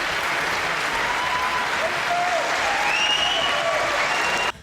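Opposition members in Parliament applaud in a dense, sustained burst of clapping that continues steadily, with faint voices rising above it before it cuts off abruptly.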